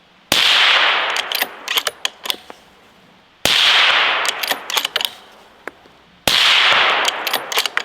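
Three loud bolt-action rifle shots fired in a strong, evenly spaced sequence, each sharp crack followed by a long ringing echo and scattered clanks of the bolt being worked between shots, with no talking.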